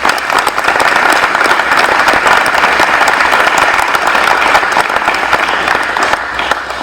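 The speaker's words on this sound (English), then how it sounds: "Please give them a round of applause." A school awards ceremony audience applauds in a loud, dense, sustained wave of clapping that runs for about seven seconds and eases off slightly at the end.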